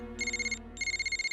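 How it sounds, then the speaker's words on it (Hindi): A telephone rings in two close bursts of rapid electronic trilling, with a short gap between them, clear and fairly loud over a quiet low hum. "Phone uncle."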